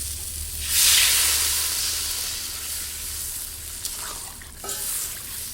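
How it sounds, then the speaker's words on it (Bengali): Water hitting hot sautéed vegetables for Bengali shukto, a loud burst of hissing sizzle that rises sharply and then settles into a steady simmering fry, with occasional utensil clinks near the end. "সবজিগুলো খুব ভালো করে কষানো হয়ে গেছে, এখন আমি জল দিয়ে দেবো"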